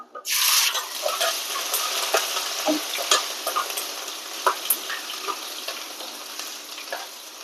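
Dried red chillies and ground ginger fry in hot oil for a fish curry, a dense sizzle that bursts in loudly and holds steady, broken by scattered clicks and scrapes of stirring.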